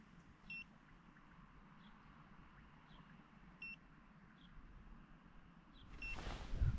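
Small fish finder echo sounder beeping during ice fishing for pike, faint short tones repeating irregularly over steady outdoor background noise, with a louder rustle near the end.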